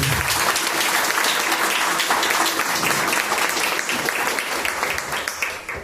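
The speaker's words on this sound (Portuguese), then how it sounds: "Se você tem um dono e o nome dele é Jesus, dê uma salva de palmas para ele." A church congregation at a family service in Santo Antônio da Patrulha claps together in a loud, sustained wash of applause that thins slightly toward the end, with no speech on top.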